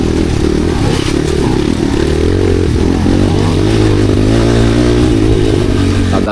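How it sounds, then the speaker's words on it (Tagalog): Enduro motorcycle engine revving close and loud, a continuous droning roar with shifting pitch and rattly clatter throughout, no talk. "Tanawa lang ang galawan, giwati-wati ra ang motor."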